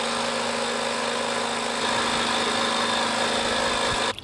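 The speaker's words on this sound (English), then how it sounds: "Let's see how long it takes to pump that same tire up." A portable double cylinder air compressor for cars runs steadily while inflating a tire, a continuous close mechanical drone with a rapid pulsing beat that cuts off abruptly at the end, no voices.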